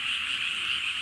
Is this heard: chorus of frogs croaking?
yes